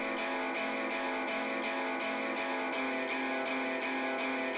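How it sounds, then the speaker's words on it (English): A crunchy distorted virtual guitar repeats the same strummed chord in an even pulse, about eight strums at a steady rhythm, sustained and moderately loud with no voices. "I copied the exact same MIDI and just had a different crunchy guitar sound"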